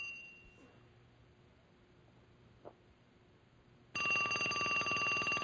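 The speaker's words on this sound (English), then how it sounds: "Answer the phone, John." A telephone in a video game bursts into loud, continuous electronic bell ringing near the end, following several seconds of near silence with a faint click.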